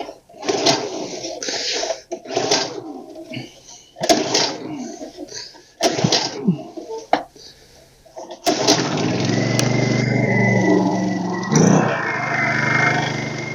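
A Honda EU2000i portable inverter generator set on the ground takes several pulls of its recoil starter in separate bursts, then fires up and settles into a steady, close engine drone.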